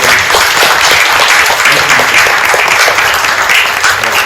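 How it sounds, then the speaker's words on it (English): An audience at an art talk breaks into loud, dense applause, many hands clapping steadily and close for the whole stretch without a pause. "can we give a round of applause?"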